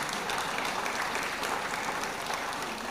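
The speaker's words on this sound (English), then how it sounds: "Please, can we give the panelists a round of applause?" An audience at a Nigerian stakeholders' event gives the panelists a sustained round of applause, a dense, even wash of clapping from many hands throughout.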